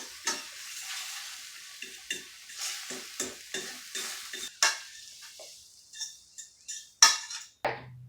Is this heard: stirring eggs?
yes